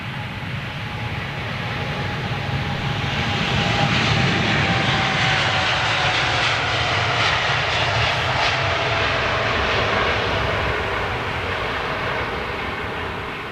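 Jet engines of a Qantas non-stop airliner at London Heathrow give a loud, steady roar that swells over the first seconds and holds, with a faint high whine running through it and no voices.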